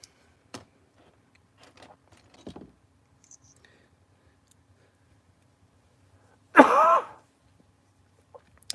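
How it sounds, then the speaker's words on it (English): A single harsh cough rings out close and loud near the end of a mostly quiet stretch, preceded by a few faint clicks and small noises. "I'm sorry about the cough"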